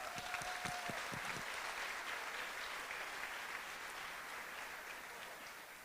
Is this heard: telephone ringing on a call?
no